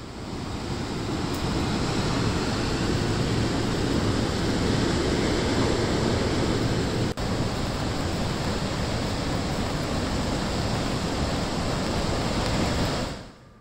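The swollen Bhogavati river runs bank to bank in monsoon flood, a steady, loud broadband roar of rushing water sustained without a break until it cuts off near the end.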